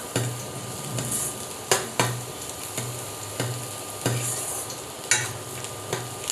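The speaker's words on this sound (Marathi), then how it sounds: "तर हा कांदा जो आहे तो आपण गुलाबी रंगावर परतून घेऊयात" Onion sautéing in a pan, soft sizzle under a series of distinct scraping stir strokes at irregular intervals, close and moderately loud, without speech.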